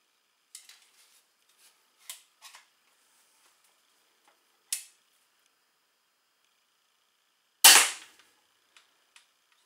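Crossbows such as the Micro 355, Vortex, Vixen and Point Blank fired during a noise-level test: several small sharp clicks and snaps, then one loud abrupt crack near the end, all against silence.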